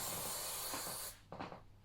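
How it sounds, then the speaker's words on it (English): Hairspray misted lightly over curled hair, a close, steady hiss lasting about a second before cutting off, followed by faint handling sounds. "I'll take my hairspray and just lightly spray all of the hair"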